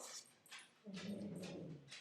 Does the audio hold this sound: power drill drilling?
no